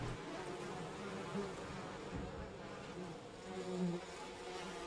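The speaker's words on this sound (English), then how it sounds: "Bees, do you want to, like, I don't know, fuck off a minute or so?" Bees in the video game We Happy Few buzz in a continuous, faint, wavering drone with no talk over it.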